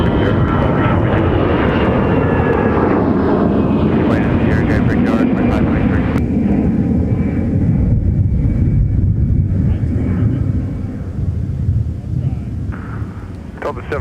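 Jet airliner engines roar loud and steady at Minneapolis–St. Paul airport, a continuous broadband rumble with wind buffeting that eases slightly near the end; ATC-style radio voices talk over it.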